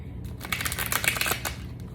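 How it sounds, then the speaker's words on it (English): A deck of tarot cards is riffled and shuffled in quick crisp bursts, close and fairly loud, with a few rapid flutters. "I'm gonna go ahead and shuffle 3 times."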